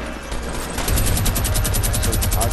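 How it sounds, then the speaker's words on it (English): Sustained automatic gunfire in a multiplayer shooter game, loud and continuous with a steady rapid rhythm and no talk over it. "No, don't shoot him in the face."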